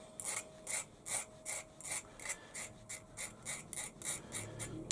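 A file or deburring tool scrapes the machined edge of a Stuart S50 model engine part in about a dozen short, evenly spaced rasping strokes, close and fairly quiet.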